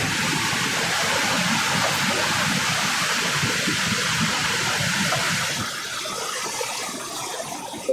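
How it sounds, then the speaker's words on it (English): Devil's Throat at Iguazu Falls thunders as a loud, steady broadband roar of cascading water, continuous throughout and easing slightly toward the end. "Where the water rushes off."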